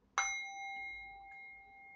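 A small ritual bowl is struck once, giving a sharp onset and then a clear, pure ringing tone that sustains and slowly fades in a quiet room.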